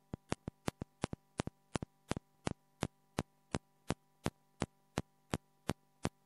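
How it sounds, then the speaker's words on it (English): A modular synthesizer patch with a very low-frequency modulation setting pulses in a steady train of sharp clicks, about three per second, over a constant electrical hum with no voices. "right now it's set to a very, very low frequency, so you can just see and hear it pulsating like this"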